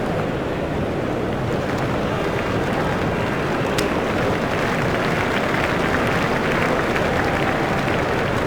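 A cricket crowd roars for a well-played shot in an India versus Afghanistan Asia Cup match, a broad, dense, steady wall of cheering and applause throughout with no clear peak.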